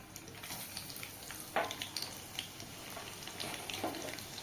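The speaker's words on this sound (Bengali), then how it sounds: "এবার দিয়ে দেবো রসুন" Chopped garlic frying in a hot pan at home, a steady close sizzle broken by a few sharp stirring clicks, with no one talking.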